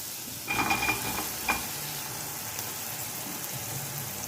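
Masala fries in a pan with eggplant about to go in, giving a soft, even sizzle with a couple of brief clattering knocks early on, then settling into a steady low hiss.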